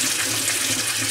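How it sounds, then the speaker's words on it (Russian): A steady, aerated stream of tap water pours from a universal shower nozzle attachment on a kitchen faucet into a sink, a loud, even hiss of bubbly water with no pauses. "Вот так струя воды льется вот в любую сторону нашей раковины, мойки."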